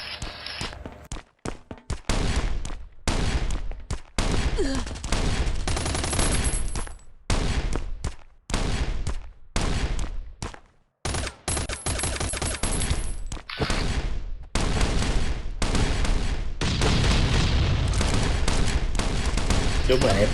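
Gunfire in the survival video game Last Island of Survival, repeated bursts of rapid automatic shots in close, loud, chopped volleys with brief silent gaps, while someone talks over the action at times.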